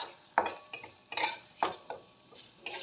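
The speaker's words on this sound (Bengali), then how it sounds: "ফোড়নটা সোনালি বাদামি হওয়া পর্যন্ত একটু নেড়ে নেব" Whole spices such as nutmeg and mace tempering in a pan over low gas, stirred with a utensil in a few distinct scraping strokes and clinks, close up and with no talking.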